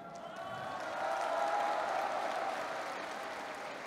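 Crowd applauding at a political party's third anniversary event in Korea, a steady dense wash of clapping that builds slightly and holds, with no clear speech over it.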